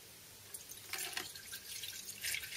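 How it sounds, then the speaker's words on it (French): Coolant pours into the cooling circuit of a GT car, a faint liquid trickle with light splashing and dripping that grows busier in short surges, close and without talk. "Il ne reste plus qu'à mettre ça dans le circuit de refroidissement de la GT."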